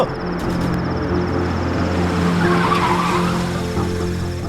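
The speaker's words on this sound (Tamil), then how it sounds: "வண்டியை நிறுத்து, வண்டியை நிறுத்துறா." A car skids to a halt with a sustained tire squeal over a steady engine drone, loud and close, with no talking.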